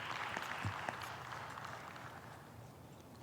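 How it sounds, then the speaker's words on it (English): Gallery applause from a sizable crowd following the lead card after a made putt at a disc golf championship round in Texas; steady outdoor clapping that stays even throughout, with a brief louder patter near the start. "That's some nice applause."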